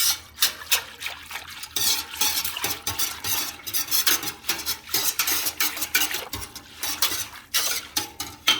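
A spoon stirs homemade mead in a pot after potassium sorbate is added, with continuous loud, close scraping and clinking of metal against the pot in irregular rapid strokes, plus a light sloshing of liquid.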